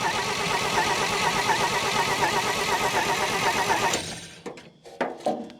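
A truck engine cranks steadily for about four seconds with a rhythmic, loud starter churn, fed extra fuel but apparently lacking spark from a loose coil wire, then stops, leaving a few scattered clunks and rattles.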